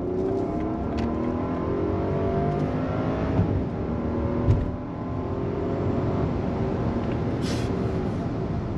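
A 2022 Rolls-Royce Cullinan SUV pulls away on throttle, its engine a smooth, muted drone with rising whir heard from inside the cabin, steady and fairly loud with a couple of brief thumps, no voices.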